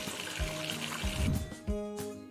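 Water draining from a bathroom sink into the siphon, gurgling and trickling close by in uneven glugs, with a few louder splashy bursts.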